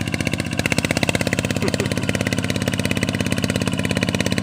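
A Yanmar TF150di single-cylinder diesel tractor, stock with original compression, runs loud and close while pulling an old-style ski harrow, a steady rapid hard-knocking thump.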